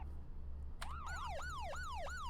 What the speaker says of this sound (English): I love the old school sirens